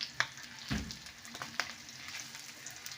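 Omena, small silver cyprinid fish, frying golden brown in a pan, giving a steady, soft sizzle with a few light clinks and stirring scrapes near the start.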